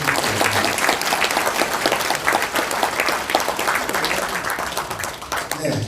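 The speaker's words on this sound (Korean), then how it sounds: "동의하시면 박수 한번 부탁드립니다" Audience applause at a Korean political party policy lecture, a dense, sustained wash of many hands clapping that carries on steadily before tapering off at the end.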